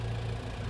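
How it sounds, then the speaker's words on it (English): Older John Deere 6300 tractor engine running steadily while chain harrowing horse paddocks, a close, constant low rumble with a faint hum and no talk. "So I'm in my tractor, which is an older John Deere. It's a 6300."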